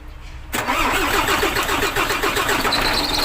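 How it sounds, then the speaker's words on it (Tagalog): A newly overhauled engine cranks briefly, then catches and settles into a loud, steady idle with a close, even mechanical rumble. "start mo nga, Yunael. Sana umandar"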